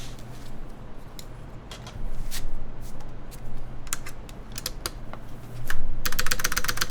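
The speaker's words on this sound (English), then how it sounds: "let's now test that spacebar stab" Keys on a custom mechanical keyboard clack in a quick, uneven run of taps with a few sharper thocks from the spacebar, close and alone, ending in a dense rattling burst.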